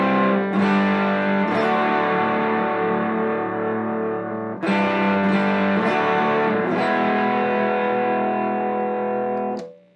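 Crunchy overdriven electric guitar with humbucking pickups through a Little Bear tube distortion pedal, middle pickup position, strumming chords, loud and up front, ringing continuously for most of the clip before cutting off at the end.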